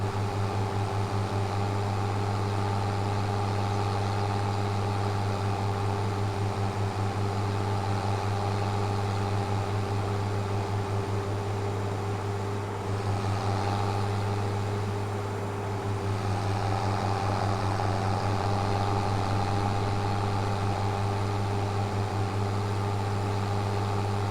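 A tractor engine idles in Farming Simulator 25 with a steady, continuous low drone and a constant mechanical hum that stays level throughout, with a brief dip in the middle.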